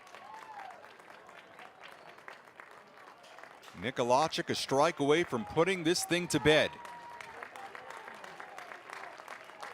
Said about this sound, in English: a near capacity crowd here at Don Sanders Stadium on their feet